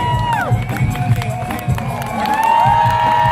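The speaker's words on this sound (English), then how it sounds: "Crowd loving that one." An outdoor crowd at a parkour show at the CNE cheers and whoops loudly and continuously, with children shouting and scattered high voices rising over the steady roar.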